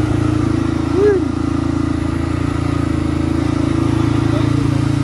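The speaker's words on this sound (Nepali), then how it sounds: "बाइक तताउँदै हुनुहुन्छ दादाले" A motorcycle engine idles while warming up, giving a steady, close, low droning hum throughout with no change in revs.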